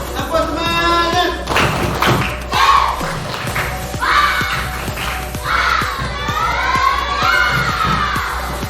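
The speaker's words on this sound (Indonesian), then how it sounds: "kita tepuk semangat dulu" A classroom of students doing 'tepuk semangat', a rhythmic patterned clapping chant, during an Islamic studies lesson; loud, evenly spaced group claps keep a beat while the children chant along in unison.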